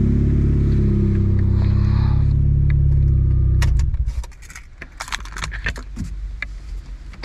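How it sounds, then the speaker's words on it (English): A Mazda Miata idles loudly, then its engine cuts off abruptly with a key turn, followed by keys jangling and rattling close by in the sudden quiet of the cabin. "Let me turn the car off so you guys can hear it off"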